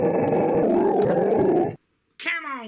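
A dog gives a loud, close, sustained low growl for almost two seconds, then breaks off into silence before a short voice-like sound follows.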